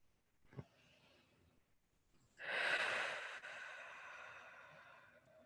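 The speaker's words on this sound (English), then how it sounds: "taking deeper breaths." A person takes deep breaths in a quiet room, starting with a faint short intake and then a long, louder exhale that slowly fades, close to the mic with no talking.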